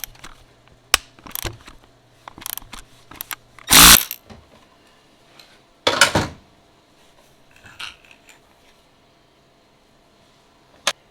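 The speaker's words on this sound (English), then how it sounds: "The next thing I've got to do is I've got to pull this retainer bolt out." Sharp metallic clicks and scrapes of tools working on an injector retainer bolt on a Mercedes OM642 diesel engine, scattered irregular bursts with two louder clanks, close and alone without talk.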